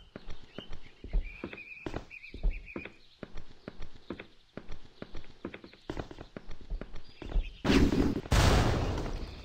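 A loud, close gun blast with a short burst of fire in the pixel action game Cube Life: Pixel Action Heroes, arriving after a long run of rhythmic clopping, footstep-like thuds.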